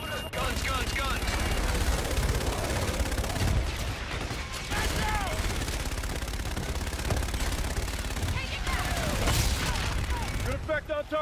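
Aircraft guns strafing during a gun run in the video game Call of Duty Infinite Warfare, heard as loud, sustained bursts of rapid fire with booming impacts over a dense battle din.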